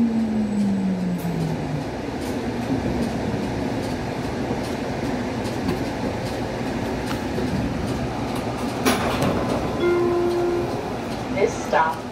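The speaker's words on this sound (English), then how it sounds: "This is the Bayonne Flyer Express Service." Hudson-Bergen Light Rail train on the Bayonne Flyer Express service, heard from inside as a steady rolling rumble with a soft tonal whine and a brief chime near the end; no talk.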